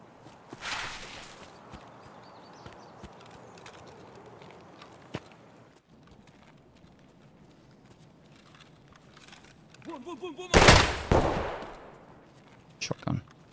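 Shotgun blasts in Escape from Tarkov: a loud boom early, then a heavy close burst of fire later followed by a couple of sharp shots, with footsteps and quiet stretches between.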